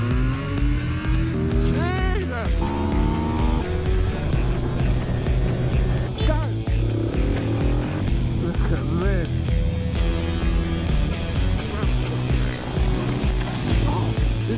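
A 2019 KTM RC 390 sports motorcycle engine runs at full power, revving loudly with rising and falling pitch sweeps over a steady, dense drone for the whole stretch.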